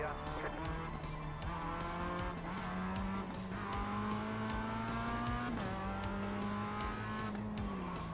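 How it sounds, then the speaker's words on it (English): A race car in the iRacing video game, its engine droning steadily with shifting pitch as it brakes hard into a corner, tires squealing continuously and loud throughout. "Why are you braking so heavily for that corner?"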